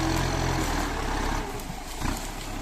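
Kubota M9540 tractor engine running steadily while pushing wet soil into a pile during the rainy season, a continuous low rumble heard close up and alone.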